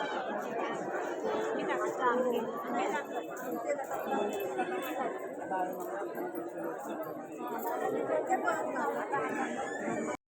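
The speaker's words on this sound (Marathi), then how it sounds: "गर्दी बघा." Dense crowd chatter fills a temple on a trip toward Kolhapur, many overlapping voices murmuring continuously at close range with no single voice standing out.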